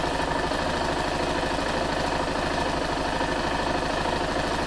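A Yamaha XT 660 R motorcycle engine idles at low speed during a sensor and idle check, a steady, close, continuous rumble with an even pulsing throb and no talk over it.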